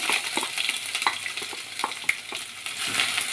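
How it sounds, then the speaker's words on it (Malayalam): Coconut pieces with chopped ginger and garlic frying in hot coconut oil after mustard seeds splutter, a steady close sizzle with scattered crackles and spatters, and stirring under it for a Kerala mutton curry. "വെളിച്ചെണ്ണ ഒഴിച്ച് കടുക് പൊട്ടുമ്പോൾ തേങ്ങാക്കൊത്തും ഇഞ്ചി വെളുത്തുള്ളി ചോപ്പ് ചെയ്തത്"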